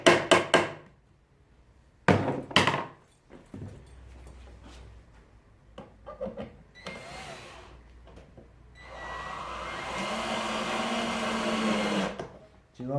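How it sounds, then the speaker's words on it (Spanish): A power drill drives a screw into wooden boards while assembling a raised base frame and legs, short whirring bursts followed by a longer sustained grinding whine, with pauses and faint handling sounds between. "Llevamos el tornillo hasta aproximar la ubicación final."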